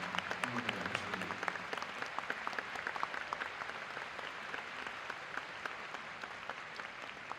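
An audience at a live concert encore applauds in a steady, crowded patter of many hands that keeps going throughout and stays moderately far away, with a brief murmur near the start.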